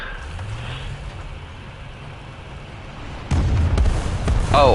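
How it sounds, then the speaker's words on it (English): Artillery shells explode in War Thunder tank combat, a heavy booming burst arriving partway through over a low rumbling battlefield bed, with a sharper crackling impact near the end. "Oh, artillery."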